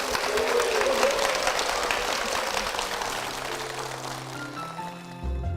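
A church congregation gives a blessing applause for two people, a full sustained roar of clapping from many hands that slowly tapers off near the end.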